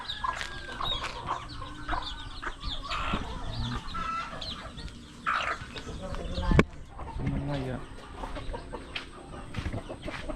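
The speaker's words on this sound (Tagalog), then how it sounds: "Grabe na ito mga manok." Hens cluck and squawk in a rural yard, several birds calling in irregular bursts near and far, with a person talking over them and one sharp knock partway through.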